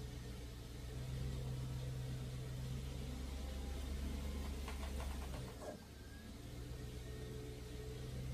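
Engine of a cheap Toyota Supra undergoing an engine swap, held at a steady, close mid-pitched drone while gas is given, with a brief dip near the end before it picks back up.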